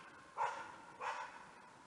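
A hunting dog barks during a capercaillie hunt in the forest, two distant barks about half a second apart over faint outdoor background noise.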